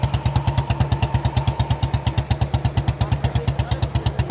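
A race motorcycle engine runs close by at a village race, with a rapid, regular pulsing throb, loud and steady throughout with no voices.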